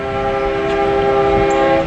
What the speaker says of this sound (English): That's the second train